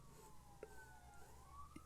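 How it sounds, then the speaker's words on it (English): Emergency vehicle sirens wailing in the distance, a faint, steady rising and falling tone that runs throughout beneath quiet indoor room noise, with a couple of small knocks. "yeah, there's definitely more sirens. Don't know if you can hear that in the background."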